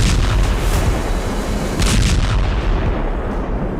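Loud, dense rumbling blasts and artillery-like booms from air strikes in Yemen roll continuously, heavy and close, with no voices.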